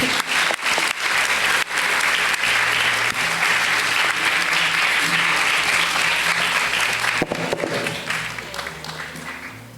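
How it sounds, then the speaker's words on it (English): A crowd claps loudly and continuously at a student leaders' panel discussion, a sustained wash of applause lasting nearly ten seconds before tapering slightly at the end. "let's give another round of applause for everyone here."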